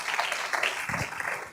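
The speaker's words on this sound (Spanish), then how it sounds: "¿Cuántos le dan un aplauso al Señor?" A church congregation breaks into a dense wash of applause during a sermon, and a brief low voice surfaces near the end of the short burst.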